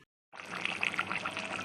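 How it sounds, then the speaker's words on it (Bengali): Water pours into a pot of chicken curry as it cooks, a steady splashing stream that begins abruptly after a brief silence and carries on at a constant level, close by, with no talking. "এবার পরিমাণ মতো জল দিয়ে দিচ্ছি"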